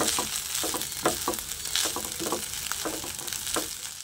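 Leftover hotdog pieces sautéing in a pan give a steady close sizzle under a run of rhythmic scraping stirs, with no voices.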